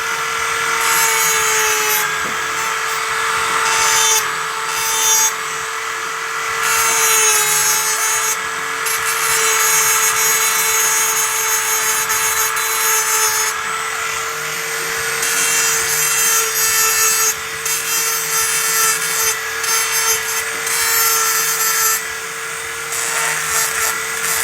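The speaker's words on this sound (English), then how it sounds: "what I'm trying to do is bevel this edge so it comes up a little more seamless" A hand file rasps along the edge of a fabricated aluminum floorboard for a Redcat Gen7, beveling it in steady repeated strokes, loud and close, with a constant high whine underneath and no talk.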